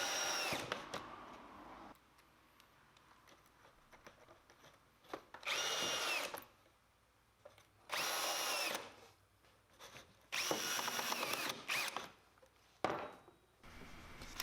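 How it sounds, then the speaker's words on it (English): A power drill drives pocket hole screws into a wooden box frame, in four or five loud whirring bursts of about a second each separated by pauses, close and without talk. "use that clamp to hold everything together before you drill in those pocket hole screws"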